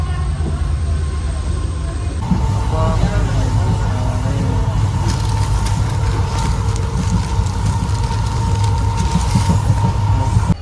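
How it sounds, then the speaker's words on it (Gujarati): A passenger train pulling out of Sihor station, heard from on board: a steady low rumble of wheels and carriages with a brief squeal and clanks as it gets moving, voices and cabin noise around. "તો ગાઈસ હજુ આપણી ટ્રેન એક જગ્યાએ ઊભી રહી છે સિહોર. હવે ઉપડી તે જોયું"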